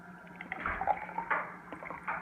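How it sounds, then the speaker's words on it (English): Warm water poured into a bottle for a lace tint mix, a soft close gurgling and sloshing flow with a few uneven surges, fairly quiet and heard alone. "you're going to just have to pour your warm water in your bottle"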